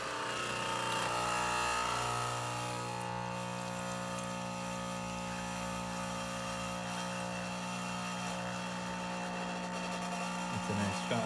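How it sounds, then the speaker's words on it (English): A chrome Elektra Microcasa semi-automatic espresso machine pulling a shot gives off a steady, close, humming pump drone with a tonal buzz that runs unbroken for the whole stretch. "I'm gonna pull a shot"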